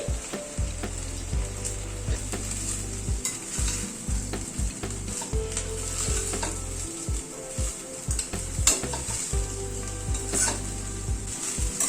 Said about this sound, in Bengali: ভাতটাকে একটুখানি মশলার সাথে নাড়াচাড়া করে নিচ্ছি